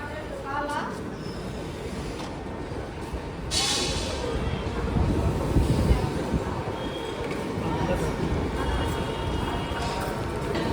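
The Guntur–Aurangabad Express rumbles in at a station, its heavy low roar building and rolling steadily, with voices and a brief squeal audible over the noise.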